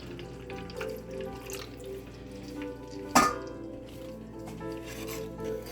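Water poured into a pot of caramelized onions for cooking rice, a steady sizzling hiss with a brief splashing burst midway, heard alone without talk.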